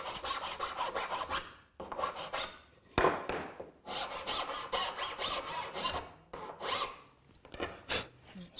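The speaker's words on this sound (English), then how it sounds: "So to round that over, I'm just going to use a file." A metal file rasps back and forth over a square wooden tenon, rounding its edges to fit a rounded mortise; steady close-up strokes come in repeated bursts with brief pauses between them.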